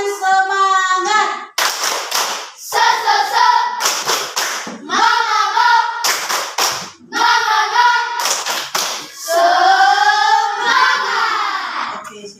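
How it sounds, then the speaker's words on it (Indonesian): Schoolchildren standing for an ice-breaking activity perform a rhythmic spirit clap in a classroom, bursts of sharp unison claps alternating with loud chanted voices in a repeating pattern. "Tepuk tangan semangat"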